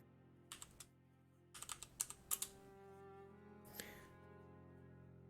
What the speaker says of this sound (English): now type in a name, character name